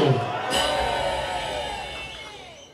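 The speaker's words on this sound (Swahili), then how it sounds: "Turudie kumpigia makofi mengi sana huyu mwamba." Rally crowd of street vendors in Dar es Salaam erupting into applause and cheers, a sudden loud swell of clapping and shouting that slowly fades over a few seconds.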